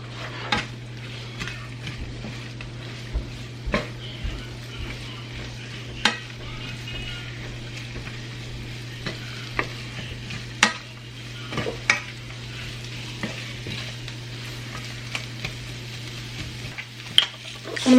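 Cabbage stir-frying in a pan with a quick, steady sizzle, broken by repeated sharp clinks and scrapes of a utensil against the pan at irregular intervals, close and moderately loud alone.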